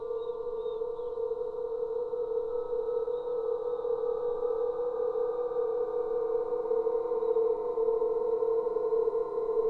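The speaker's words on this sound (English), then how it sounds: "It was a very large aeolian harp built on a hill" A very large aeolian harp sound sculpture built on a hill in New Hampshire drones with steady, sustained layered tones, a continuous humming chord that holds without a break.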